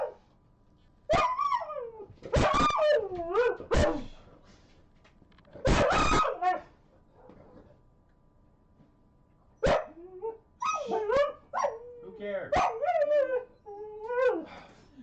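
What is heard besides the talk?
neighbourhood dogs barking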